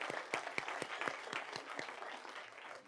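A studio audience claps for a group of young students honoured for a medical invention, steady close applause with sharp individual claps standing out, continuous and fading slightly toward the end.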